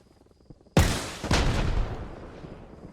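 One sharp, loud gunshot from a dug-in self-propelled gun in Arma Reforger cracks out after a quiet moment, followed by a rolling echo that fades slowly.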